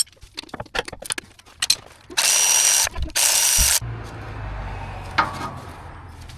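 Quick ratchet clicks from a wrench working a mount bolt on a fifth-generation Toyota 4Runner come in uneven bursts, interrupted by two long loud whirring power-tool runs, then a low steady hum.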